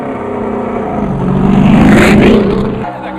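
A NASCAR Chevy SS race car testing at Richmond's short track roars past up close. The engine rises to a loud peak and then drops away as it passes.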